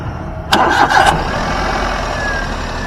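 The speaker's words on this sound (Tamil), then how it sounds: "வாங்க வண்டியோட இன்ஜின் சவுண்ட் எப்படி இருக்கு அப்படின்றத கேட்போம்." A small petrol Maruti Alto engine cranks and catches, with a brief rev, then settles into a quiet steady idle.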